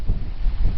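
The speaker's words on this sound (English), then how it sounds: "It's really windy, so I'm struggling to keep the tripod still for a decent long exposure." Strong wind buffets the microphone on an exposed clifftop on the Pembrokeshire coast near the Green Bridge and Elegug Stacks, a steady low roar with gusting rumble and no voices.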